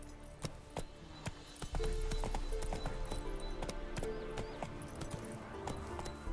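Hooves clip-clop in a steady galloping rhythm, close and continuous, with a horse's snort and whinny over a layered soundscape in The Witcher 3.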